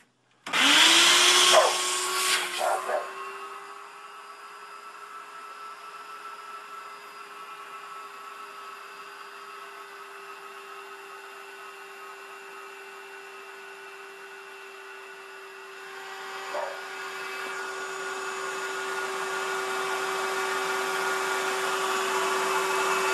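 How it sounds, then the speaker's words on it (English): A shop vacuum sucks water out of a Whirlpool washing machine's drain hose, starting with a loud burst of gurgling and slurping, then settling into a steady, close motor whine that holds for over twenty seconds and swells slightly near the end. "the vacuum will get everything out that you need to."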